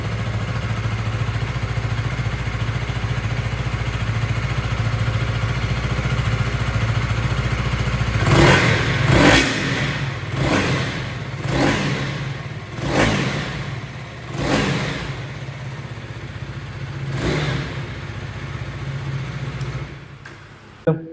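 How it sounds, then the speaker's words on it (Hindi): A KTM Duke 250 motorcycle idles up close with a steady rumbling exhaust. Then comes a series of sharp throttle blips, about seven quick revs spaced a second or two apart, each rising and falling back to idle. "सो एग्जॉस्ट नोट तो सुनना बनता है"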